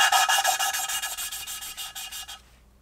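A valve is lapped against its seat on a Hayabusa turbo engine, giving a close, gritty rasp. The rubbing strokes come in a quick steady rhythm for about two seconds, then stop.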